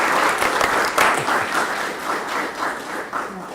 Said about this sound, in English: I think we give them a round of applause.